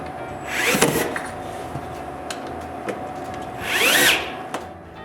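A power drill drives screws into an interior wooden door. It gives two loud, close whirring bursts of about a second each, rising in pitch and then stopping, with quieter workshop noise and faint taps between them and no voices.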